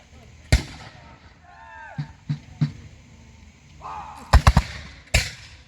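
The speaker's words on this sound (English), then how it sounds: "the 54th, being British regulars, fire a perfect volley" British regulars fire muskets in an outdoor reenactment battle at Chase Farm, producing loud, sharp bangs: a single shot, a few spaced reports, then a tight cluster of cracks and one final blast. Faint chirping sounds fill the gaps.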